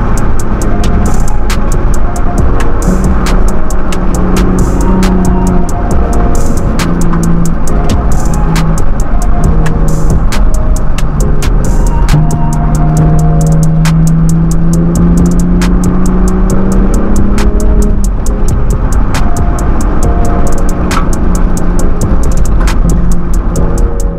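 A new pickup truck drives and accelerates on a Colorado road, its exhaust note rising and falling in steady, loud engine tones with shifting pitch as it pulls, continuous throughout with no talking.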